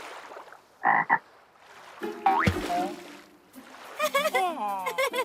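A couple of short croaks, then cartoonish chirpy voices and warbling calls, with a voice playfully imitating a frog's croak amid the sounds.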